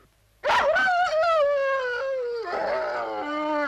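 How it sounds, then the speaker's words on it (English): A dog howls in a long, mournful wail that slides downward, then breaks into a second, wavering howl, loud and close with nothing else heard. "You've got a pretty neurotic dog there."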